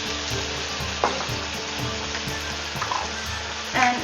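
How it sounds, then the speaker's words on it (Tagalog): Fish sizzles steadily in a hot pan as fish sauce, vinegar and dark soy sauce are poured in, giving a close, continuous crackling fry with a few brief sharper spatters and splashes, no talk. "And now we can add the fish sauce, vinegar, dark soy sauce"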